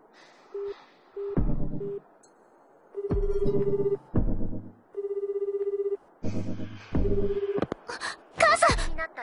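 A telephone call rings out in a series of short, loud electronic ring bursts separated by pauses, with a tonal beeping pattern and a few other brief tones in between, heard in an anime scene.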